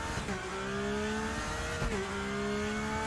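Race car engine revving loudly in the RaceRoom racing simulator, a steady high-pitched engine drone that briefly dips and climbs again as the car shifts, heard alone and up close.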